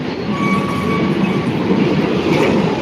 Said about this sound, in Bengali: আর এইদিকে পুরো একদমই সেই ট্রেন ঢুকছে আইরন হল্ট রেল স্টেশনের দিকে